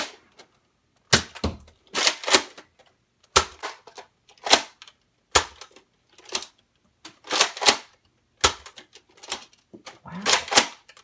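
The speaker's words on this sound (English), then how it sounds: "Firing the Recon Mark II, starting with standard white Modulus Elite darts." A Nerf Modulus Recon Mark II blaster fires standard white Modulus Elite foam darts, five sharp snapping shots spaced about two seconds apart. Each shot is followed by the rattling clack of the slide being primed again, all close and loud.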